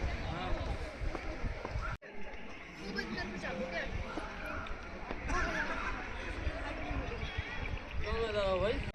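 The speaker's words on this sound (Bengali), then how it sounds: "এখানে ঘোড়া রয়েছে, সবাই রাইড করছে পয়সা দিয়ে।" Horse hooves clop on hard ground in an irregular rhythm at a lakeside riding spot in Mudumalai Tiger Reserve, mixed with people chattering nearby and general outdoor bustle.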